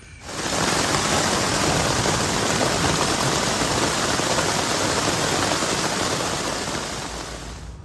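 Steady, dense rain hiss fills the whole stretch, a continuous broadband wash of rainfall with no voices, fading slightly at the end; an all-night storm heard from a tent while camping on Long Island, New York.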